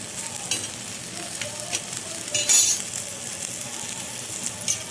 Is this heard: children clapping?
no